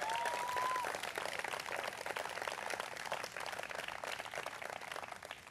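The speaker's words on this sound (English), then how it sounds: "So please give them a big round of applause." Crowd applauding at an outdoor campaign event in a backyard in Iowa, steady dense clapping holding for several seconds at moderate distance, with no voices over it.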